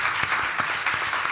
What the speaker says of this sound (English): Can we get a round of applause for our 4 panelists?